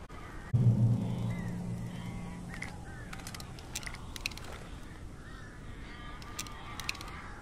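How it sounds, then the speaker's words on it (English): Harsh cawing and honking bird calls in Alan Wake Remastered come in scattered bursts over a low ambient rumble. A deep hum swells at the start and then fades under the calls. "These birds are weird."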